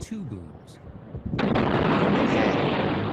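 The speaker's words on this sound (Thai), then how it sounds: "ตามด้วยปรากฏการณ์โซนิกบูม นะครับคือการระเบิดของเสียงนั่นเอง" A sudden loud aircraft sonic boom bursts in after a moment of quieter sound, then a sustained roaring rumble fills the rest, broad and heavy.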